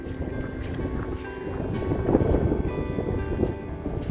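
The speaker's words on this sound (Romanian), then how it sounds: "Aici bate vântul" Wind gusts buffet the microphone on a mountain hiking trail at about 1115 metres, a rough, continuous rumble with flutters and small peaks, no voices over it.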